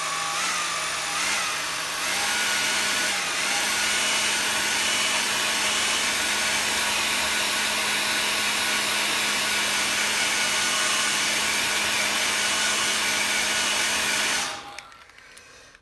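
A hair dryer blows steadily over wet watercolour paint for about fourteen seconds, loud and close with a whirring drone, then clicks off into near silence.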